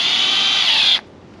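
A power drill drives a screw into siding in one steady, loud, high whir lasting about a second before it cuts off sharply.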